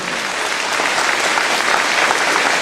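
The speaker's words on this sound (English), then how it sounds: "So I want you to give them a big hand of applause for their efforts." Loud, dense applause from an audience at a community gathering, honouring the Mowbray Land Claims Office team. The clapping stays steady and close throughout, with no pauses.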